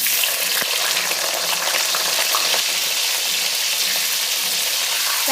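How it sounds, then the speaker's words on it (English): Large capsicum cubes frying in hot oil on a tawa, a loud, steady sizzle with scattered crackles and a few soft stirring knocks. "I'll add the large cubes of capsicum to the oil and I'll fry it"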